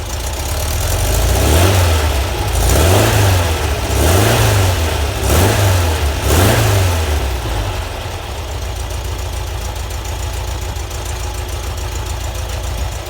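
A Volkswagen Type 4 engine with an A1 exhaust runs on a stand through heat cycles, revving in five rhythmic surges before settling into a steady, loud idle.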